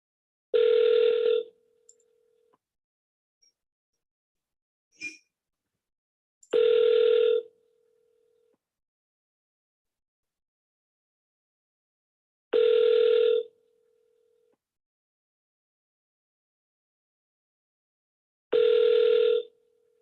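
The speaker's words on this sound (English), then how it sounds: "Please state your name after the tone, and Google Voice will try to connect you." Ringing tone on a phone call being connected through Google Voice: four long electronic rings spaced about six seconds apart, clear and alone with silence between them.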